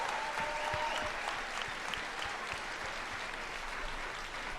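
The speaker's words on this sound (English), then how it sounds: "So let's give them a round of applause." Live audience applauding the behind-the-scenes crew at a CrossFit Open 19.4 announcement, a steady dense wash of clapping that holds at even loudness throughout without a break.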